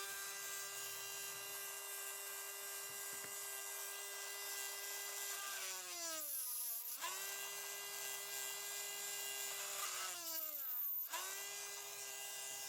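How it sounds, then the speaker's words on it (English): A cordless rotary tool chamfers holes in a Remington Barlow knife part, giving a steady high whine. Its pitch dips twice as the bit bites and pauses, then climbs back, with no voices. "I'm using my cordless rotary tool to chamfer these holes rather than doing it by hand using a bead reamer."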